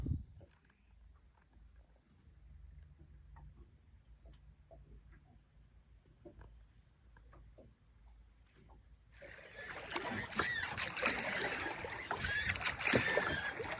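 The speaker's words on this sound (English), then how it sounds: "You're rowing the boat, aren't you?" Oars working a small boat on inland water, quiet creaks and faint dips at first, then a louder rush of splashing and water movement close by in the latter part.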